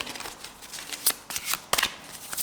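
Tarot cards shuffled by hand in a quiet room, a run of soft riffling swishes with a few sharper snaps standing out, close and alone.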